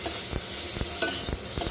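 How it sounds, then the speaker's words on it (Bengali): Potato pieces fry in oil in a pan while a spoon stirs them, giving a loud close sizzle broken by several sharp scraping strokes in quick succession. "জাস্ট একটা এমনি ভাজা ভাজা মতো হবে আলুগুলো"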